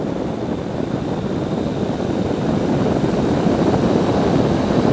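A small airplane engine gains power in flight, a continuous low propeller drone mixed with wind rush that grows slightly louder over the clip.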